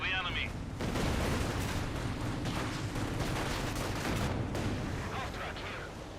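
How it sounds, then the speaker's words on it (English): Katyusha rocket barrage in Company of Heroes 2, a dense volley of sharp rapid blasts and crackling impacts filling the whole span at moderate distance, trailing off near the end. "Another Katyusha barrage here"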